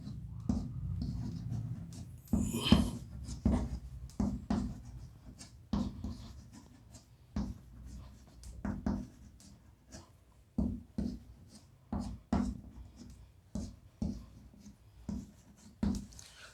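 Chalk or marker writing on a board in a classroom, a series of short scratchy strokes in irregular bursts, close and fairly quiet with no talking.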